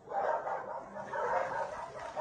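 Dogs bark and yip at an animal shelter, a few overlapping barks at moderate distance, fairly soft, in two short bursts with no talk.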